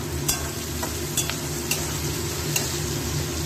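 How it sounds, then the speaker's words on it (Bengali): Spiced food sizzles steadily in a pan over a continuous frying hiss, with a few sharp clicks of stirring spaced through, close and alone. "এটাই একটু ভাজা ভাজা হোক।"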